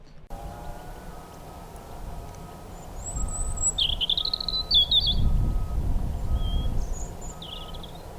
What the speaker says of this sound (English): it's mostly robins at the moment